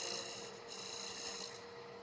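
A woodturning tool cuts along the rim of a spinning shallow wooden bowl to clean up tear-out, producing a steady, close rasping scrape that holds at an even level for two seconds.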